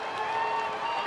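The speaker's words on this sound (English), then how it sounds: "The Pirates fans finally have a chance to cheer." A ballpark crowd at a Pirates–Padres baseball game cheers after a run-scoring double, a steady, moderately distant wash of applause and crowd noise with a tonal hum running beneath it.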